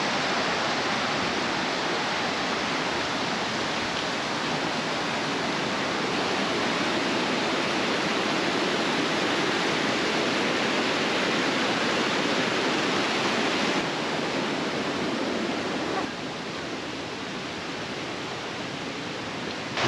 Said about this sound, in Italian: E il rumore è solo quello del fiume.